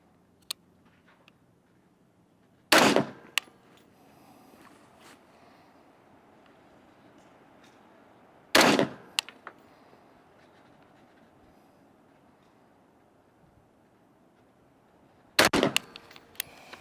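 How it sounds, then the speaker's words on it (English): Three sharp rifle shots from a BCM rifle on an outdoor range, spaced several seconds apart, each a loud crack with a brief echoing tail over quiet background. "So let's go shoot 3 rounds from this Geisley BCM rifle."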